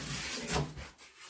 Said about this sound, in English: So basically I got what's called a rasp.